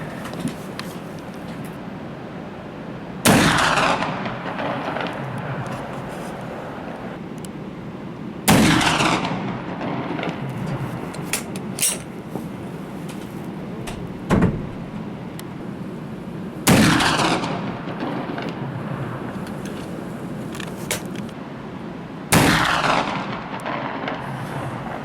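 Rifle shots at an outdoor shooting range in Gimmelwald ring out one at a time, five loud cracks spaced several seconds apart, each with a long rolling echo over quiet background.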